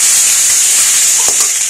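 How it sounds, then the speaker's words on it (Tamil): Rice stir-fried into an egg masala in a hot pan gives a steady, loud, close sizzle and hiss, with a brief scrape from the spoon near the end. "அதோட இந்த மசாலாக்குள்ளே அந்த ரைஸ் போட்டுடலாம். போட்டுட்டு இது நல்லா வதக்கி விடுங்க."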